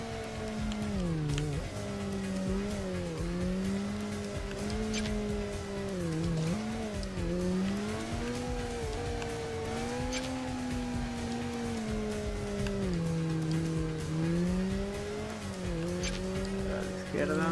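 A motorcycle in a video game revs continuously, its engine pitch rising and falling as it accelerates and brakes, with tire skids mixed into the steady, moderately quiet drone.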